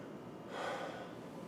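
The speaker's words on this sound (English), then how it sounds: "Big breath for me." A patient's deep breath in during a physical exam, a single close, soft rushing inhale that swells and fades within about a second.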